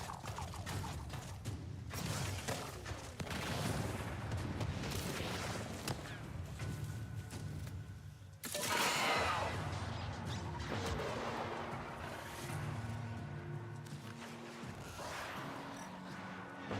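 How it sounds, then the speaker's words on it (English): Distant artillery strike in the Warframe game: a dense, continuous rumble of mechanical crashing and booming impacts that swells again after a brief dip midway, with no talk over it. "That's got to be artillery getting called in from like a ways away."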